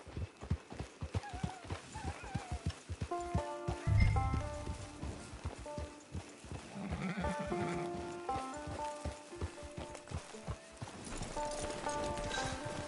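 Steady hoof clip-clops trot along while a horse whinnies a couple of times, with a soft musical background, in a video game.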